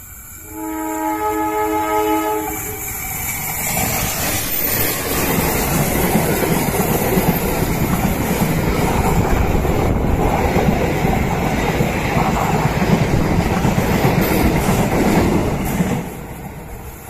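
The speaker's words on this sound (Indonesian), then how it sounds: "persiapan melintas KA Progo." KA Progo passenger train passing at a trackside spot in Bumiayu, opening with a loud horn blast, then a sustained, close rumble of wheels and cars rolling by for over ten seconds before it fades abruptly.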